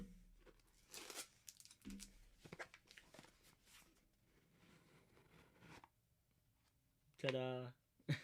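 Tape is ripped off a cardboard box holding an automatic watch during an unboxing, giving rough tearing and crinkling bursts with a sharp, louder rip near the end, mixed with soft voice sounds.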